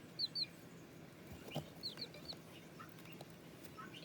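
Young free-range chickens, likely hens, cluck softly nearby in short, scattered calls, with a couple of brief sharp peeps over a quiet background.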